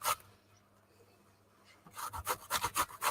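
Zucchini rubbed by hand against an old antique grater, a quiet pause followed by a run of quick rasping strokes, close and rhythmic, each scrape short and bright.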